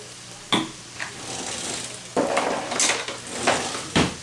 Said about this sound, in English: Get you a ladle and go ahead and stir it up pretty good.